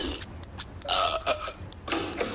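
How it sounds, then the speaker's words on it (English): A cartoon burp rumbles out in a few bursts, the loudest drawn out in the middle and another near the end, close and fairly loud, with faint sounds between. "Watch this, the burp champion of the world."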